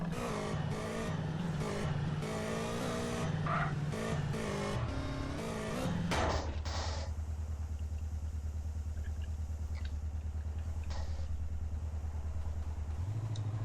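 Motorcycle engine in a video game revs hard and steadily, loud and alone, then drops into a sustained lower drone after a sharp shift midway, with faint clatter over the top.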